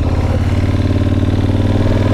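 A KTM 1290 Super Adventure S with a Rekluse clutch pulls away, its loud, close V-twin engine throbbing steadily under load in a continuous, thick rumble with no speech.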